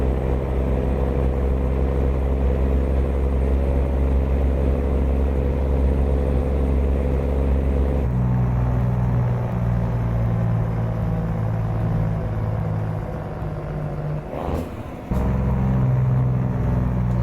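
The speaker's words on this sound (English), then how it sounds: "So those will be the Cummins engines from the W9 and the sounds from that by default." Simulated Cummins diesel truck engine from a Kenworth W900 in American Truck Simulator, a steady low droning rumble that shifts pitch partway through, with a brief burst of noise near the end, loud and continuous with no talk.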